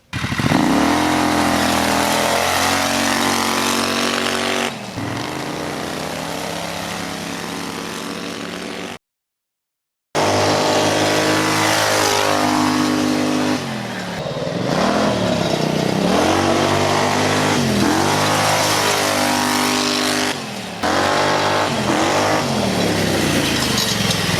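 A loud 670cc long-travel buggy engine revs hard to about 6,000 RPM, climbing and dropping in pitch through repeated high-rpm pulls, with a brief silent cut partway through.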